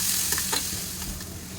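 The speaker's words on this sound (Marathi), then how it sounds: "आता बारीक चिरलेले दोन कांदे आहेत ते टाकूया चांगले लाल होईपर्यंत परतून घेऊ तेलामध्ये" Finely chopped onions fry in hot oil while being stirred, a close, steady sizzle broken by a few scraping stirs of the spoon against the pan, with no talking.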